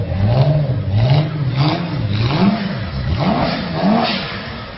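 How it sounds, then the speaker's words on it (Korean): A supercar's rough, powerful engine revs up and down several times in a rhythmic pattern, each surge rising and falling in pitch, close and loud with no speech. "아주 거친, 아주 강한 엔진 소리를 들으셨는데요"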